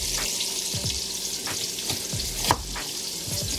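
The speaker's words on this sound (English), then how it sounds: "while your meat is browning" Beef browns in a pan for vegetable beef stew with a continuous close sizzle and crackle, broken by occasional scrapes and stirring knocks, with no talk.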